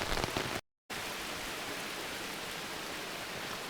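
Heavy rain falls at a nature campsite in a steady, loud hiss of drops, broken by a brief silent gap early on, with no talking.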